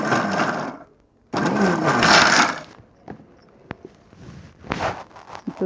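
A kitchen mixer grinder grinds roasted gram for a Ugadi festival sweet in two short whirring bursts with a pause between them, followed by lighter rattles and taps.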